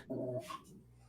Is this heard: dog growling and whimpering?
yes